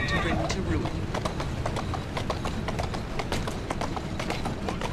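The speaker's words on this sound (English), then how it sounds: "Who's a good horse? You are." A horse's hooves clip-clop in a steady, brisk rhythm in the video game Assassin's Creed Syndicate, close and continuous, with voices talking over the hoofbeats.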